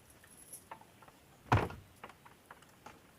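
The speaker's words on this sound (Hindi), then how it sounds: "दरवाजा लगा दे बंधु। लग गई दरवाजा जी।" A door in a Chhattisgarh village being shut, one sharp thunk at mid-clip, with a few faint clicks and rattles around it in a quiet setting.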